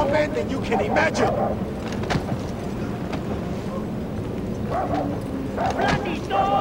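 A dog barks in Far Cry 4, set in the Himalayas, a few sharp barks near the start and again toward the end over a steady rumbling game background, with shouted voices in between.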